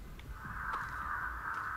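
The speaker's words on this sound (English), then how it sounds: "Cheryl, you disturbed the birds" Crows caw in Dead by Daylight on the Backwater Swamp map: a steady, fairly loud run of harsh calls lasting the whole moment, with no talk over it.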